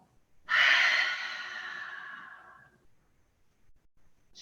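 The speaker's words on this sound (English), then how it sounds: "Big breath in through your nose. Exhale, sit back, child's pose." During a yoga session, one long, deep breath rushes out loud and close, then tapers away over about two seconds, followed by faint softer breathing.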